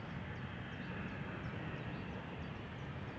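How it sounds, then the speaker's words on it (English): Eastern Airways Embraer 190 jet turning onto the runway at Amsterdam Schiphol: a steady, distant broadband engine roar with a faint whine, unchanging throughout. "The Embraer to Leeds has now turned onto the runway."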